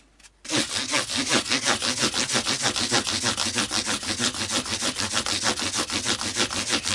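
Fine 1000-grit sandpaper rubs back and forth over a guitar's finish in a steady, rhythmic scratching stroke, close and continuous after a brief quiet start.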